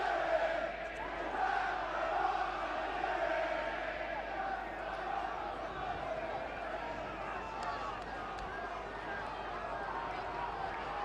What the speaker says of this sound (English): Now the boos, the crowd think that that might have been a forward pass.